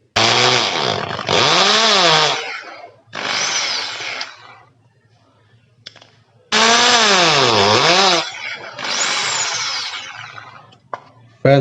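A small power drill bores holes in a small motor for a homemade mini water pump, a loud close whine in several long bursts with pitch dips as the bit bites, separated by short silences.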